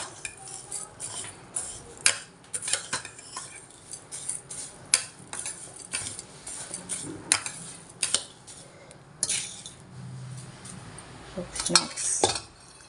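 A spoon scrapes and clinks against a bowl or pan while poha is mixed with salt and chili powder, giving irregular close taps and clatters over a quiet background with no talking.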